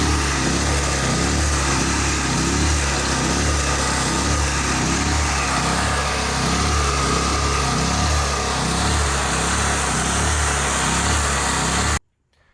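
A repaired generator's small engine, fitted with a new carburetor, runs loud and steady with an even rapid chug, then cuts off abruptly near the end.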